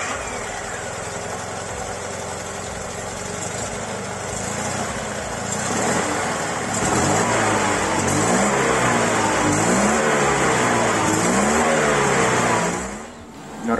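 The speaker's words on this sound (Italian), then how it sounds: "Questo invece è il motore della 500 dotata di iniezione elettronica." A Fiat 500 engine converted to electronic fuel injection runs close by, idling with a steady buzz before being revved up and down in repeated swells, then dropping back.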